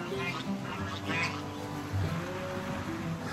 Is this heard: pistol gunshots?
no